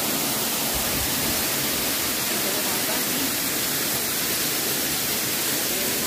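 The Don Juan waterfall on the way to a cold mountain pool makes a constant broadband roar of falling water, loud and unbroken throughout with no distinct events.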